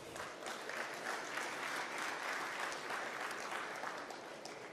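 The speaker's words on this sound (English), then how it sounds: "please welcome and provide a huge round of applause to my panel members here today" Sustained audience applause for panel members at the close of a keynote panel on funding, permitting and ESG challenges, a steady wash of clapping from a large hall with no talk over it.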